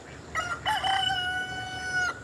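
A rooster kept in a backyard garden pen alongside ducks lets out one loud, close crow lasting about two seconds, with no voices around it.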